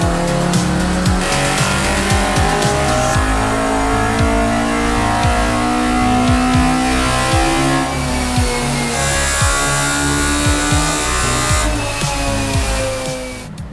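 An engine fitted with individual throttle bodies runs on a dyno, revving hard in loud, rising screams toward 10,000 RPM with quick throttle blips and falling dips between pulls, close and with no talk.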